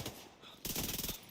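Video-game gunfire breaks out as a rapid burst of shots after a quieter stretch, close and loud, rattling for about half a second over faint background noise.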